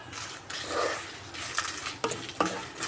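About thirty dried red chillies fry in two teaspoons of hot oil for gongura pickle. Soft sizzle and crackle come with stirring scrapes and a few sharp metallic clinks, close and moderately quiet.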